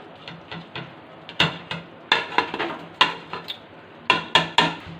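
A spoon clanks and knocks repeatedly against a cooking pot as chopped coriander and green chillies are mixed in, with irregular bursts of loud metallic strikes close by.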